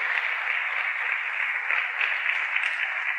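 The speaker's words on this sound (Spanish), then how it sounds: "Dale un fuerte aplauso al Señor." A church congregation claps in steady, dense applause during an evening service, the sound continuous and fairly loud throughout with no voices over it.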